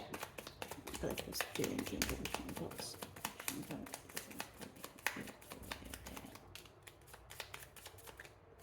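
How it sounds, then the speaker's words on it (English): Rapid papery riffling and flicking of a tarot deck being shuffled, steady close ticks with a soft voice murmuring underneath now and then. "I'm going to shuffle thrice on camera"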